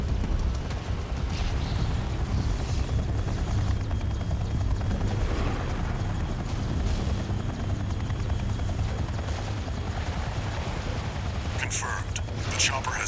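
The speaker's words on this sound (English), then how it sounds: "The chopper has exited the combat zone." Helicopter rotor thumping steadily under dense battle noise in the mech combat game Armored Core VI, a continuous low drone that holds level throughout as the chopper leaves the combat zone, with brief high bursts near the end.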